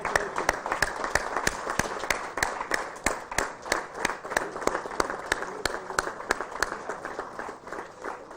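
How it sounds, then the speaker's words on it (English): Audience applause at an awards ceremony for the JKO UDAAN Competition 2021-22 as team members join for the team trophy: sustained dense clapping throughout, with some faint voices underneath. "A big applause, please."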